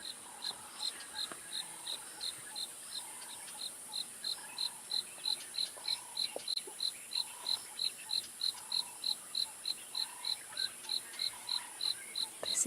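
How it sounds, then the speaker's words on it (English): Crickets chirp at sunset on an African safari, producing a steady, rapid pulsing trill that repeats about twice a second and grows slightly stronger, moderately quiet against a soft evening background. "A few crickets."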